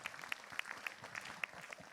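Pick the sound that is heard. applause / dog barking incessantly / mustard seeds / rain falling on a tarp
applause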